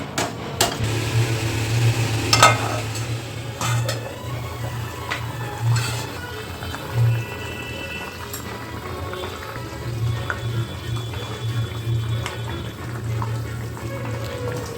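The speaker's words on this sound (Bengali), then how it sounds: "এবার আমরা ঢাকা দিয়ে আলুটা ভালো করে সিদ্ধ করে নেব।" Potatoes simmering under a lid in spiced curry with hot water for a duck egg curry, a steady low bubbling hum with scattered soft pops and faint kitchen clinks, no talking.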